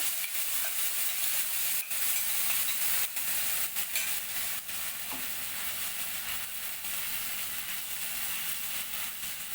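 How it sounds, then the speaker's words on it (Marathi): Onion and tomato paste frying in hot oil for a raw banana kofta curry, a steady close sizzle with occasional stirring clicks throughout, no talking. "या तेलामध्येच आपण आता ही कांदा टॅमॅटोची जी पेस्ट करून घेतली होती ती आपण याच्यामध्ये पेस्ट घालून घेऊया"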